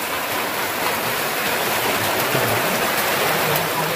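Steady, heavy rain pours continuously, a dense even hiss with no pauses and no voices.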